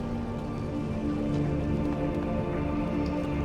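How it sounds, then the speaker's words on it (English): Steady rain falls in the video game Wizard101, a dense even patter with scattered drop taps over a low ambient hum, continuous and moderately loud, with no voices. "It is currently raining."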